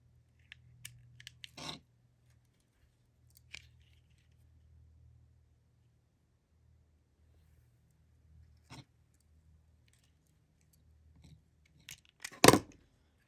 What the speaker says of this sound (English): So I cut 2 pieces of 12-inch cord.